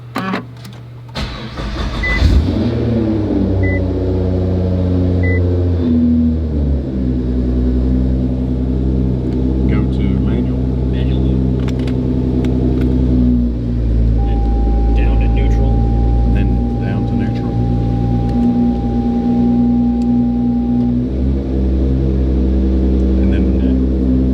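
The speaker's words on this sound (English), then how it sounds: "after putting the drain plug back in, you're going to start the car" A Nissan R35 GT-R cranks and starts, then settles into a steady, loud idle with a deep rumble heard close up, its engine note shifting slightly partway through.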